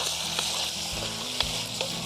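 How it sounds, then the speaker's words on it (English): Steady, crackling sizzle of beef frying in a hot pot over a campfire, close and continuous, with a few sharper pops and a faint stirring scrape. "The beef is really starting to sizzle."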